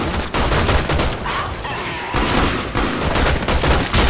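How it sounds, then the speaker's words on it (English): Rapid, loud automatic gunfire from the video game Warframe rattles in dense, overlapping bursts with brief gaps, close and heavy throughout. "He's shooting at stuff."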